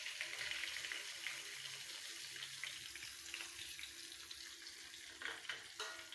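Spice powders frying in hot sesame and coconut oil, a steady faint sizzle and bubbling hiss running throughout with a few louder crackles near the end.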